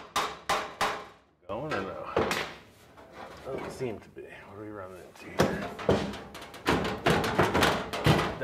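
Several sharp metallic hammer strikes ring out in quick bursts on a 1968 custom VW, separated by stretches of talking and mechanical shuffling, then a rapid run of hits near the end.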